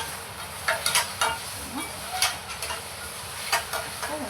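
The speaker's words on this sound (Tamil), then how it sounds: "நல்லா வதக்குங்க." Finely chopped onions sauté in a pan for egg gravy, a soft continuous sizzle broken by intermittent scraping bursts of stirring, close and fairly quiet.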